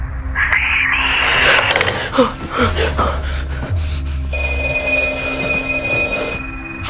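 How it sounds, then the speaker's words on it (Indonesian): A telephone rings in a horror-film scene, its steady electronic ring cutting in partway through over murky background ambience and low rumbling, fairly loud and close. "tiba-tiba telepon berdering lagi"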